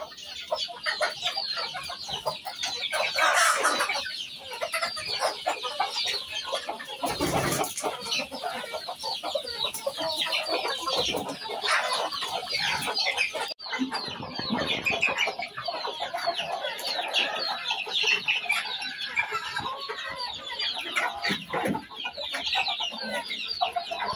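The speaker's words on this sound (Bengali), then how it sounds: "এখন আমি একটা একটা খোপ খুলে দিব আর সব মুরগিরা বার হয়ে যাইব।" Chickens cluck steadily with an occasional rooster call as coop compartments are opened one by one for the morning, a dense, continuous flock chorus at close range with no talk.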